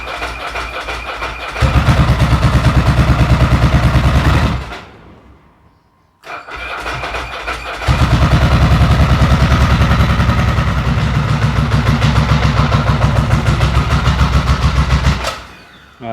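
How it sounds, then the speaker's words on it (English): A Ducati 900SS motorcycle engine cranks and fires up, running rough on only one cylinder; a loud, uneven throbbing idle that cuts out around four seconds, goes quiet, then restarts and keeps chugging. "But I'm going to try and start this. I reckon it's going to fire up."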